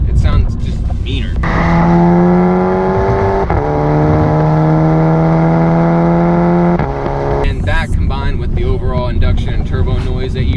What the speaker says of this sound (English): Induction and turbo noise that you hear now